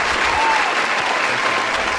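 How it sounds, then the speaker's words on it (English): A studio audience applauds guest Luce Bennett on a talk show, a dense, steady burst of clapping close by that fills the whole moment. "Round of applause to Luce."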